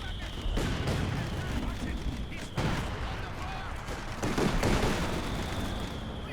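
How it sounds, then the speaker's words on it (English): An artillery barrage in the video game Company of Heroes 2 sounds as repeated heavy booms and crackling impacts, several sharp blasts over a rumbling bed, with a voice talking underneath. "And artillery cover on the centre once again."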